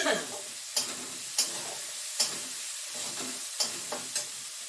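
A pan of tomato, ginger, garlic and green chilli paste with ground poppy seed and melon seed paste sizzles softly in oil, while a spoon scrapes through it in regular strokes about every half second.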